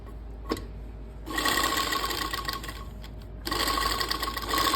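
A sewing machine stitches a seam alongside buckram, running in two steady loud bursts of rapid rhythmic whirring with a short pause and a click between them, close up and free of talk.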